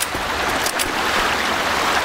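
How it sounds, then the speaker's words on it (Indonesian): Continuous rushing river water flows steadily in the Left 4 Dead 2 video game, a loud broadband wash with no talk. "Suara airnya bak cakep ya guys ya."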